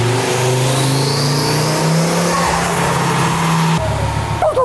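A car fitted with a hybrid turbo revs hard on a dyno power run, the engine note climbing loudly and steadily before dropping off near the end as a voice calls out.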